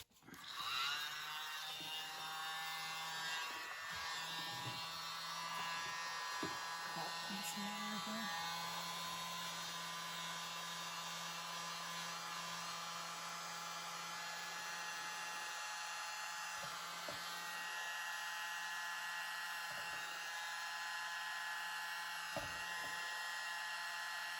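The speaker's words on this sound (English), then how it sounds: "Use my mini blower." A mini blower runs continuously over a paint pour, a steady close whirring drone with a high whine that holds for the whole stretch with only slight dips.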